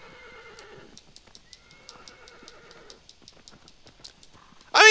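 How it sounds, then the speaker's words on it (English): Horse neighing and whinnying with soft hoof clip-clops in the video game Shadow of the Colossus, a whinny at the start and another mid-clip over light rhythmic hoofbeats, then a sudden loud burst at the very end. "there is something pretty cool about a man riding through distant lands on a horse"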